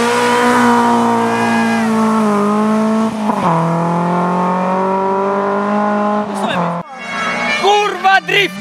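A rally car at a rally stage drifts through a curve. Its engine screams loud and close, with the pitch rising and falling through gear changes. The revs drop sharply near the end, then flare in quick bursts, and voices are faintly heard.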